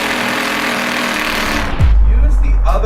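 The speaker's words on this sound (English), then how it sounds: "I'm basically screwing into one of our oak slats that go along the wall." A power drill drives screws into an oak slat along a wall while fitting out a coffee truck. It makes a loud, continuous whirring grind that then drops into a deep, steady rumble.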